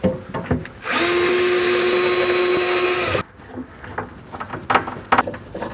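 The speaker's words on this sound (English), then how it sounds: "You can now drill and screw this into place." A loud power drill whirs steadily for about two seconds, driving a screw into a cabinet while installing a corner organiser, bracketed by clicks and clunks of handling before and after.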